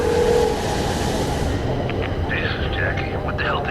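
A train passes in the video game The Darkness, a loud rumbling roll that stays steady and dense, while a voice speaks over the latter part.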